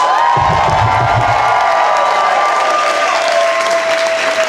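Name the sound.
audience cheering and applauding to vote for a comedian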